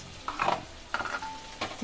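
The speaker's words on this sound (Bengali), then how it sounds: "এবার এটি আমি একটু ভাজা ভাজা করে নেব যতক্ষণ না এটা কাঁচা গন্ধটা চলে যায়" Ginger, garlic and chili paste fries in a pan for fish kalia, heard as short bursts of sizzling and stirring scrapes, three distinct spurts close up with quieter crackle between them.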